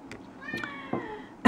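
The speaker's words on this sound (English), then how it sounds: "My cat won't be quiet. She's so chatty." A pet cat meows in a drawn-out, chatty call with a few rising tones over about a second, then a sharper, louder burst at the end, close to the mic in a quiet room.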